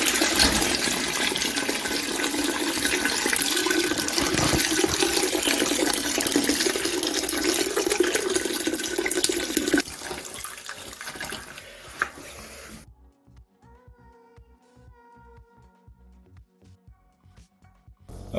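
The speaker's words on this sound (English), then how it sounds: "Got to do now is just basically strain that grain bag and then see what the gravity is" Homebrew wort pours and drains steadily from a lifted grain bag in a continuous loud watery rush for about ten seconds, then tapers to thin trickles and drips while the brew is being strained for a Boddingtons Bitter recipe.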